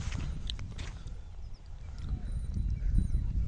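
Horse hooves clip-clop in a steady walking rhythm on a Gir village farm, fairly close and moderately loud, with low wind-like rumble and faint background sounds but no talk.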